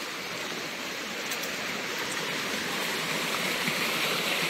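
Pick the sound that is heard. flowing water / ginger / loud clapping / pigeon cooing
flowing water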